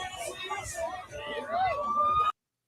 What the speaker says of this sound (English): sirens could be heard